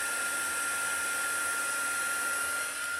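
Heat tool blowing steadily to melt embossing powder for heat embossing: a loud, constant hissing whoosh of hot air that runs unbroken throughout, with no talk over it.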